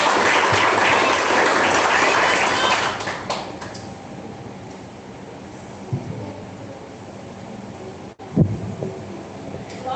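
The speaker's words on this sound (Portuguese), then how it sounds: "Palmas que engrandece a Deus." A church congregation claps loudly for a few seconds, a dense roar of applause that quickly dies away into a quiet room with a few scattered thumps afterwards.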